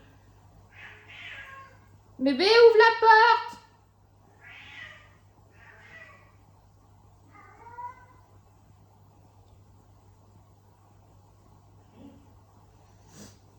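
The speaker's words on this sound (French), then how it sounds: "Bah alors, pourquoi il miaule?" A house cat meows indoors, a loud drawn-out yowl followed by several shorter, fainter meows spaced a second or two apart, with a person calling out briefly before them.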